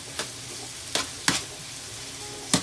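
A spoon stirs a one-pot meal in a pot with four sharp scraping strokes spread unevenly over a soft, steady sizzle, close and clear with no voices.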